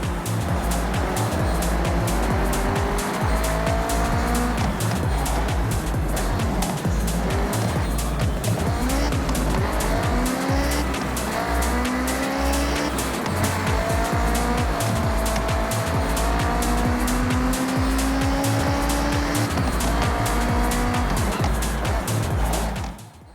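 Cars race in the Forza Horizon 6 video game, with loud engines revving up and down through gear shifts and repeated tire squeals and skids, continuous and close for the whole stretch.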